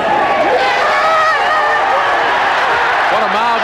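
Rugby crowd at a Ranfurly Shield match, dense close chatter and calls from spectators during a conversion kick, a continuous murmur of many voices.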